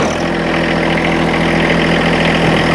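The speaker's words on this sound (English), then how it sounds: "Let's go ahead and get the tractor started." The engine of a John Deere 1023E compact tractor idles out in a field, a steady, loud, close diesel rumble with an even mechanical throb and no talking; no starting sound is evident.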